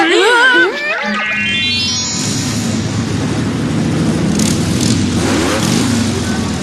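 A cartoon car engine from Doraemon revs and roars steadily, with a rising whistle-like sweep at the start and a loud, continuous motor drone.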